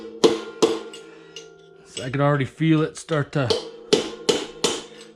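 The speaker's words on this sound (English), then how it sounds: "for this you're probably going to need a pretty solid hammer" A solid hammer strikes a pinion bearing race to drive it out, giving sharp metallic knocks spaced out in ones and twos. Someone talks briefly between the hits.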